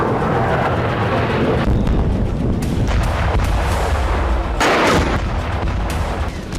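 Explosions from night strikes in Yemen rumble continuously as a dense, loud wash of booms and artillery-like blasts, with a few sharper bursts standing out and no voices.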